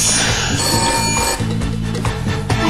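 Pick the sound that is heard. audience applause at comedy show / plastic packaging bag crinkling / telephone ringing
telephone ringing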